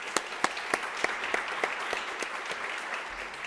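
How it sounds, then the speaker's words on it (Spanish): Audience applause at a financial inclusion index launch seminar, a steady wash of many hands clapping with a few sharper claps standing out, moderately distant and alone without talk. "A todos ellos les brindamos un aplauso."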